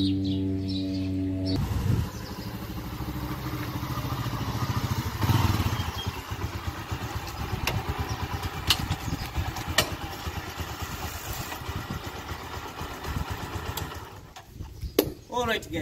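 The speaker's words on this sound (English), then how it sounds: "that was the testing of the motorcycle after fixing the clutch" Bajaj Boxer X150 motorcycle after a clutch replacement, started and ridden on a test run: an engine catches after a short silence, then a steady clattery single-cylinder running note with brief sharp clicks, fading near the end.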